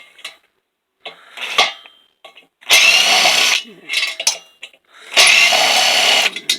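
A power screwdriver or drill whirs in short loud bursts, two longer runs and a few brief blips, removing screws from an old ceiling fan, with clinks of metal parts in the quiet gaps between.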